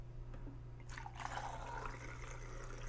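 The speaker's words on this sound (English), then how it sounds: "we're actually gonna pour some water that I have here in this bowl" Water from a bowl is poured into a Patterson film developing tank, a soft steady trickle and splash rising after a quiet start and continuing at low level over a faint background hum.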